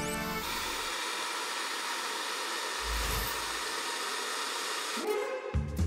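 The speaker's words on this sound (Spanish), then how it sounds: "Un secador de pelo" A hair dryer blows a steady, loud rush of air, its broadband hiss dipping and swelling slightly as the airflow shifts, then cutting off near the end.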